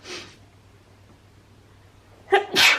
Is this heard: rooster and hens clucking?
no